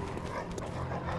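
In the video game Bloodborne, dogs bark and whimper faintly under a dense, noisy game soundscape, with short yips coming through the background rumble.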